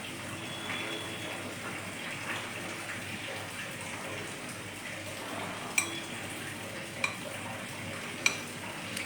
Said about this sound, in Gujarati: વચ્ચે વચ્ચે ચાસણીને હલાવતા રહેવી પડશે